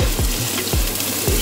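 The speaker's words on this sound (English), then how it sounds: "Get the sizzle, you know it's hot, honey." Sliced mushrooms dropped into a hot pan fill a home kitchen with steady sizzling and frying crackle, with a few soft stirring scrapes, close and alone.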